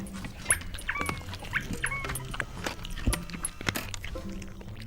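A dog barks and whimpers in short, excited yips, fairly close, with a few footsteps and little talk.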